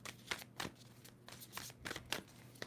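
Several quick riffle-shuffles of a tarot deck sound in a quiet room, each a short crisp flutter of cards repeated in a loose rhythm, close and faint.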